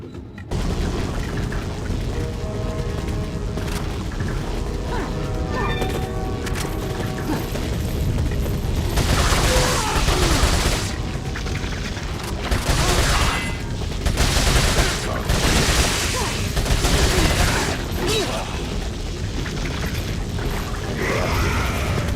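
Gunfire and weapon mechanisms in the video game Resident Evil 4, with clicks early on, then bursts of shots and impacts in clusters over a steady game background.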